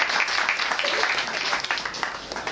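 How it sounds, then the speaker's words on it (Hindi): Audience at a gathering gives a short round of applause for a speaker, a dense, fairly close wash of clapping with faint voices underneath. "तो एक बार इनके लिए जोरदार तालियां।"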